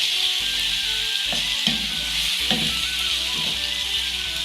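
Ginger, garlic and chili paste for chicken nihari fries hard in a pan, a loud, even hiss of sizzling oil with a few faint stirring knocks underneath.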